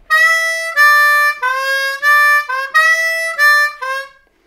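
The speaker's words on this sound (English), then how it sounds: "lick number three, which is a little bit easier speed-wise," A D harmonica plays a blues lick in rhythmic bursts of draw and blow notes with little scoops, clear and close, with no voice over it.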